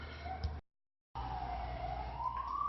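A siren wails in the distance with a slow rising and falling tone, briefly cut off by a gap of silence before it returns.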